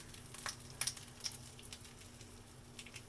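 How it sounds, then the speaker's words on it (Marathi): Pomfret fish shallow-frying in oil in a pan on a bed of curry leaves, a faint, soft sizzle with scattered small crackles and pops, no talking. "आता वरून थोडंसं तेल सोडणार आहे"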